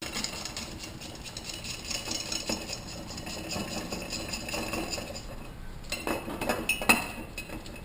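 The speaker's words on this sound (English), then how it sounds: "Now I have a ratcheting one to make it just a little bit easier." A ratcheting wrench loosening bolts on a 4L60E automatic transmission, rapid metallic clicking and clinking in close bursts, moderately loud, with a few sharper knocks toward the end.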